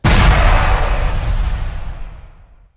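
One loud explosive firecracker bang, recorded for a mascletà, followed by a long rumbling decay that fades out over a couple of seconds.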